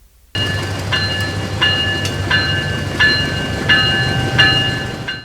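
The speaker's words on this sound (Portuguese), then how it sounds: "A locomotiva chega ao seu destino." A steam locomotive rolls in to its destination: a loud, steady rumble of the train with rhythmic clanking and ringing metallic accents recurring about every half second to second, close and continuous without voices.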